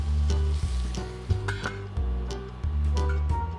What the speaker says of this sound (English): cover and cook the paneer bhurji for about 2 minutes on low heat